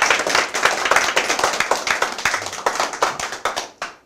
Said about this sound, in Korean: 우리가 서로 자부심을 좀 가지시라고 박수 한번 치겠습니다